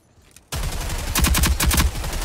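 Rapid automatic gunfire from a video game, Rogue Company, aimed at turrets in the tutorial; loud bursts start abruptly after a quiet half second and continue densely to the end.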